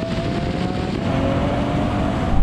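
A 700hp Audi RS7 launching hard at a drag race against a Lamborghini Aventador, its engine roaring loud and close in a sustained, rising strain with no talk over it.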